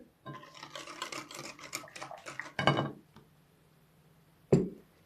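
A spoon scrapes and taps rhythmically against a bowl while stirring yeast batter as flour is added, quick close clinks followed by a louder knock, then a pause and one more clack.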